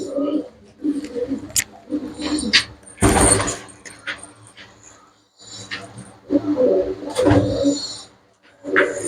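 Pigeons coo in short bursts, close by and fairly loud, among scattered bird calls and a few sharp knocks and rustles; people talk at intervals over them.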